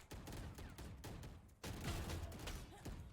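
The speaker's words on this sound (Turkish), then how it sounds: "Bak silahtan mermi çıktığını bile görmüyorsun adam öldürken." Rapid gunfire from a Valorant deathmatch round rattles in dense bursts, with a brief gap midway before another loud volley, mixed with game effects and no talk.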